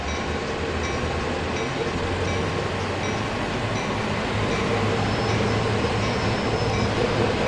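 Simulated train wheels squeal and rumble in the video game Train Sim World 2, a continuous loud, dense rolling noise with steady rail grind running through the whole stretch, no pauses.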